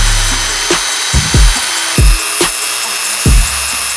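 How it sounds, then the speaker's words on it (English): A custom grip piece for a BMW M1000RR motorcycle is sanded flat, heard as a high steady tool whine cut by several quick scraping rasps and knocks at an uneven pace, close by. "sand it down real fast to see if I could get it to be a little more flatter"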